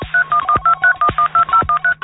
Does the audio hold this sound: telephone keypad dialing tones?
yes